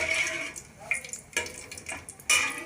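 Cardamom pods fry in about 50 grams of hot oil while being stirred, with a steady soft sizzle and scraping, clinking spoon strokes against the pan, close by and with no talking.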